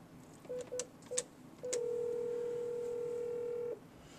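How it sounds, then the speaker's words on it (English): Cisco 7975 IP phone keying an extension: several short separate DTMF beeps, then a long steady tone held for about two seconds, clear and close with no talking. "Dial the extension or 9 and the 10-digit number."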